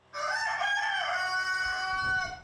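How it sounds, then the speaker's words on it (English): A rooster crows loud and close inside a barn rebuilt after a flood, one long drawn-out crow filling the moment, with a low shuffle or cluck from other chickens near the end. "being a home to her new clucking companions"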